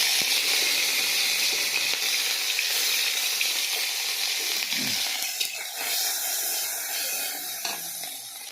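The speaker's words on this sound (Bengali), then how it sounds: "সিদ্ধ করা মাছগুলো ভেজে নিব আগে" Pieces of boiled fish frying in hot oil, a dense, loud hissing sizzle that crackles steadily, easing slightly midway and then continuing with spattering pops.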